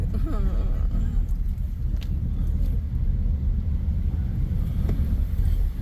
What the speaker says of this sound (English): It's raining real heavy.